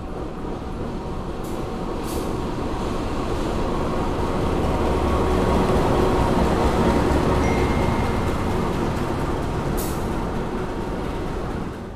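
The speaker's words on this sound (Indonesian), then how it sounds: "Yang akan masuk di jalur 1 adalah rangkaian kereta api Majapahit yang akan saya naiki dari Jakarta menuju Malang" The Majapahit passenger train rolls into platform track 1 at a Jakarta station, a loud, steady, close rumble of wheels and carriages that holds throughout, with a few faint high squeaks.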